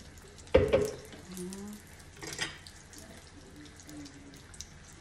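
Homemade salsa for chiles rellenos simmering in a pan, giving a soft bubbling sizzle under a sharp clatter near the start and a brief louder burst midway.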